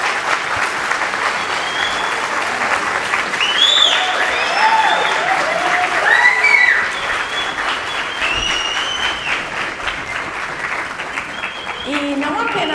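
A church congregation applauding during a worship service, a dense, sustained wash of clapping with voices and faint whistles or cheers rising through it, steady throughout.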